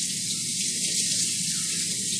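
Steady water streams from a tap over hair being washed at a sink, a continuous close hiss with no break and no talking.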